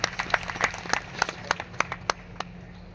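An audience at a devotional gathering claps in a loose burst of separate hand claps, fairly close and uneven, tapering off after a couple of seconds.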